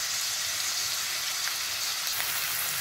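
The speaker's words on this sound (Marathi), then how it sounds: "आपल्याला ही फोडणी आता मस्त अशी सगळी परतून घ्यायची आहे आणि कांद्याला थोडा गुलाबी कलर येऊपर्यंत त्याला फ्राय करायचा आहे" Onions fry in hot tempering oil for an Indian curry, giving a steady, close, dense sizzle with fine crackling and no speech over it.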